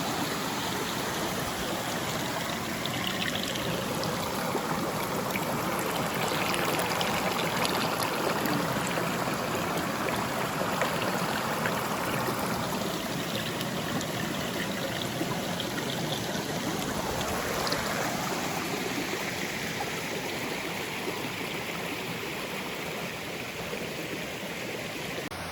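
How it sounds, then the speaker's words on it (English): Rushing water at the top of a waterfall, with the stream churning steadily and loudly for the whole stretch and no voices. "Here I am at the top of the falls,"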